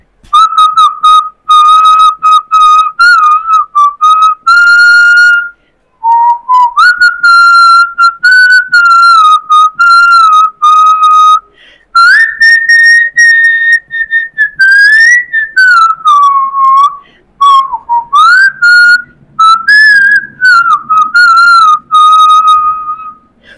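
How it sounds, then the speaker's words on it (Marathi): A person whistles a song melody by mouth, loud and close, in long sustained phrases with bends and quick trills, broken by short breaths and pauses, with no talk over it. "मी शिट्टीतून गाणं म्हणणार"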